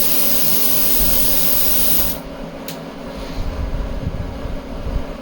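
A plasma cutter slices through scrapped RV steel with a loud, steady, close hiss that stops abruptly partway through, leaving a quieter rumbling background.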